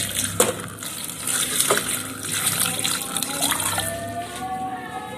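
Water is poured and splashes into the spice paste while sambal tumpang is made in a rustic village kitchen, with scattered close clatter and stirring and a voice speaking at times.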